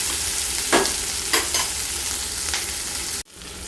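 Chilli paneer is stirred and fried in a pan, a constant close sizzle with a few scraping stirs, ending in an abrupt cut.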